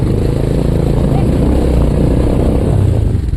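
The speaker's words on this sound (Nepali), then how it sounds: "गाडी आउँदैछ" A motor vehicle on a hill road on the way from Kathmandu to Lalitpur gives a loud, steady engine rumble that fills the whole stretch without clear breaks.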